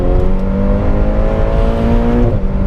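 A new Ferrari Portofino with a turbocharged engine is being driven, its exhaust producing a loud, steady drone with layered harmonics that climbs gently in pitch before easing off near the end, heard up close without any talking.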